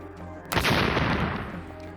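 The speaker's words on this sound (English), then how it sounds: "it did explode when lit with a flame" A gunpowder mix of saltpeter and charcoal ignites in a sudden loud burst, a sharp blast that rolls into a long crackling, roaring rumble and slowly fades over about a second and a half.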